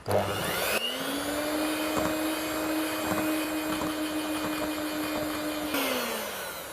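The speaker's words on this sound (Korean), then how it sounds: "휘핑기로 30초 정도 다시 휘핑해 줍니다." An electric hand mixer whips eggs, oil and vanilla extract in a bowl, giving a steady loud motor whine that starts, holds evenly for about five seconds, then winds down.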